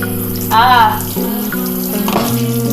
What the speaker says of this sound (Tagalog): Hugasan muna natin ang ating mga pinanggamitan.